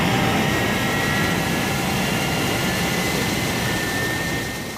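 Thunderbird 1 lifting off from Thunderbird 2 in the puppet series, a continuous loud jet-engine roar with a broad rushing hiss that holds steady throughout and eases slightly at the very end.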